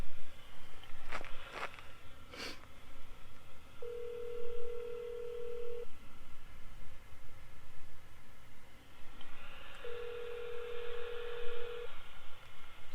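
A telephone ringback tone through a ham radio autopatch sounds twice, long steady buzzes separated by a pause, over faint background noise and a few clicks at the start.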